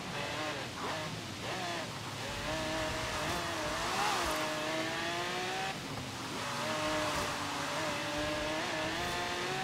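A car in Forza Horizon 3 accelerates hard, its engine note rising and falling through gear changes with tyre noise, loud and continuous for several seconds.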